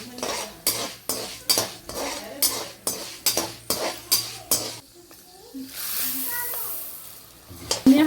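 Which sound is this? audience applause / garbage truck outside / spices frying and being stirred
spices frying and being stirred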